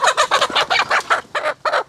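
A chicken clucks in a rapid, steady series of short, close calls, about nine in under two seconds, with nothing else around it.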